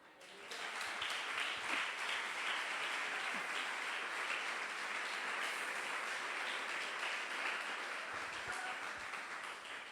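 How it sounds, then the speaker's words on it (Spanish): Congregation applause in a church service, a fairly quiet but continuous patter of many hands that starts abruptly and holds even for about ten seconds. "Un aplauso al que viene."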